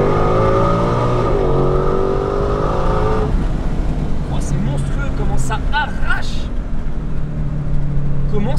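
A 771-horsepower Ford Mustang Shelby GT500 engine revs up through its gears on a straight, loud and rising, then eases off while people talk with chirpy sounds over the top.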